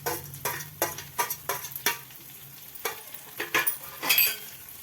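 Curry leaves and coriander frying in hot oil for a radish vegetable dish, a steady sizzle broken by repeated scraping stirs of a spoon in the pan, close and fairly loud, with no talking.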